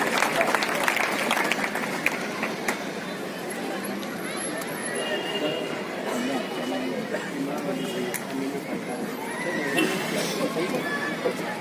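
A crowd at a public gathering breaks into loud applause, sustained clapping that swells at the start and rolls on with cheering and chatter mixed in, while a voice speaks over the noise.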